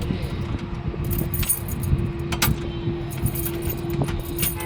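A bunch of keys jangles and clinks in repeated small bursts, close by, over a steady low hum from a car or nearby motor.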